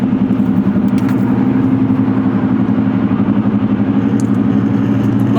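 A car cruises on the I-95 highway among tractor trailers, producing a loud, continuous, close engine and road drone with a pulsing low rumble and no talking.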